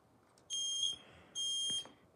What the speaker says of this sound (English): there's a bunch of smoke detectors staked all over there